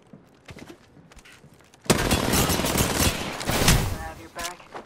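Rapid automatic gunfire erupts in an Apex Legends match, a dense, loud fusillade of shots that begins abruptly after a few quieter taps and carries on for several seconds.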